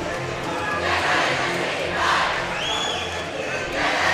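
Crowd at a Preston vs. Minico high school boys basketball game cheering and roaring steadily, loud and close, swelling in waves with a few shouts rising above the din throughout.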